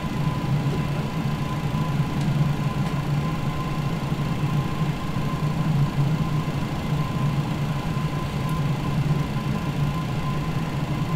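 McDonnell Douglas MD-11 airliner engines idling at the gate in a flight simulator game, a steady low drone with a faint constant tone above it, unchanging and without talk.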